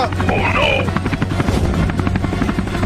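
A helicopter's rotor thuds in a fast, steady chop, loud and close, with a brief voice-like squeal near the start.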